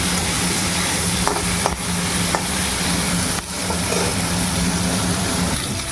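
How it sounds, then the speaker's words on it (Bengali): Potato pieces fry in hot oil in a kadai with turmeric and salt, a loud steady sizzle broken by a few scraping stirs of a spatula against the pan. "একটু হলুদ নুন দিয়ে আলুটা ভেজে নিচ্ছি"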